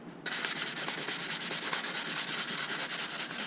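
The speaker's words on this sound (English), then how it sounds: "you'll come in with finer sandpaper" Fine sandpaper rubbed rapidly back and forth over a model rocket nose cone, a close, loud, rhythmic scratchy rasp in quick even strokes that starts abruptly and continues without talk.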